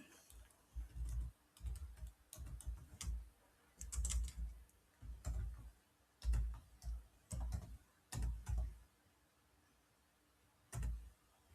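Typing on a computer keyboard, scattered short bursts of soft key clicks separated by pauses, close and quiet.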